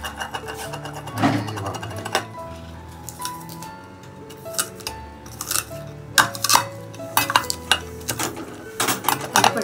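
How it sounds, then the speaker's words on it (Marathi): Garlic pounded with a pestle in a khalbatta mortar in a home kitchen: uneven, sharp knocks and grinding clatter, loud and close, arriving in irregular bursts with no talking. "त्याच्यानंतर ही लसूण आणि हा खलबत्ता."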